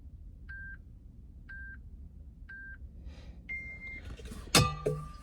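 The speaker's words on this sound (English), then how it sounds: "Right now I can start the timer on my watch." A wristwatch timer gives three short, evenly spaced electronic beeps, then a longer tone, followed by rustling and handling noise close by.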